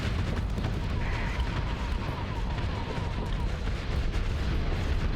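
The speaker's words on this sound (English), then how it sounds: "the guns on the Onslaught actually do decent damage. Especially when there's two of them shooting at you" Heavy ship guns of an Onslaught battleship in the Starsector space game fire in dense, rumbling booming volleys, loud and continuous, forming a thick low barrage.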